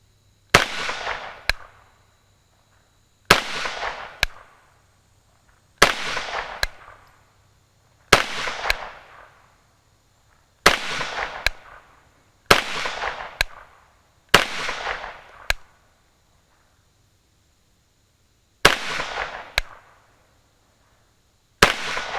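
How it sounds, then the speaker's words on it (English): A CZ Scorpion Evo fires single shots at a paper target outdoors, nine sharp loud reports spaced a couple of seconds apart, each followed by a short echoing decay. "I'm gonna try to see how good of a group I can have with this gun"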